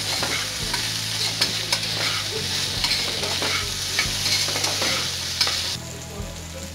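Potato and cauliflower pieces fry in a pan for brown rice khichdi with a steady sizzle, broken by regular scraping stir strokes from a spatula. The frying sound drops off near the end, and no one talks.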